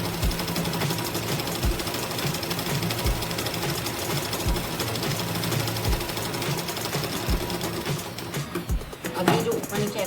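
A sewing machine stitches a blouse in a fast, steady mechanical whir with regular needle clatter. It runs continuously close by, with a brief pause and some handling noise near the end.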